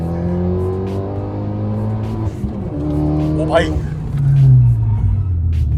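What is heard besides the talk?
stage 3 custom Fiat car accelerating hard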